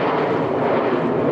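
Jet aircraft of the RAF Red Arrows aerobatic team roaring overhead during a display at EAA AirVenture, a loud, steady broadband engine rush that fills the whole moment with no voices.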